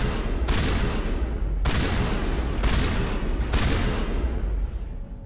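Heavy gunfire bursts from a Mass Effect battle, loud and close, with several sustained volleys that stop and start again and a trailing echo as the last one fades.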